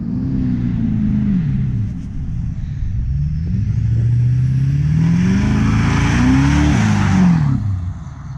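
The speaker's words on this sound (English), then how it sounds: "He's gonna drift this turn, he says." A Powerstroke diesel pickup truck drifting around a turn sends out a loud, close engine roar that rises and falls as it revs, with tire and road noise swelling toward the end.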